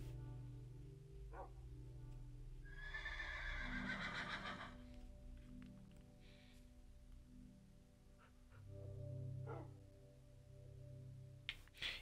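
A horse neighs in the Minecraft video game, one clear whinny in the middle followed by softer snorts and low grunts, heard alone without talk.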